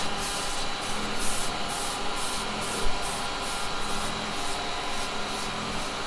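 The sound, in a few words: sanding wood on a lathe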